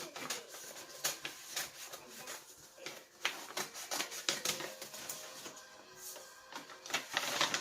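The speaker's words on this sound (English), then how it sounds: "Basically, you're just cutting the bottom off the bag, just like that." Scissors cut through a brown paper bag, snipping off its bottom to make a textbook cover, with a steady run of close, crisp rasping and crinkling strokes.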